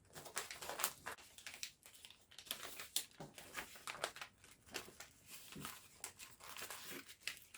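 Sheets of sewing pattern paper crinkle and rustle up close while a paper fit of a bust dart is tried against the body, with steady irregular crackling bursts filling the whole stretch and no talk.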